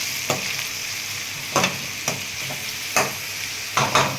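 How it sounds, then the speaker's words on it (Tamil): Onions fry in a hot pan for a chicken curry, with a bright sizzle and sharp bursts of spatula scraping and stirring coming every second or so. "இப்போ நம்ம இதில் வெங்காயத்தை போட்டுடலாம்."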